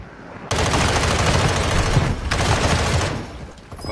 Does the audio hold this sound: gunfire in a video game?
yes